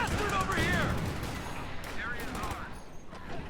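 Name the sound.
mortar shot in video game Company of Heroes 2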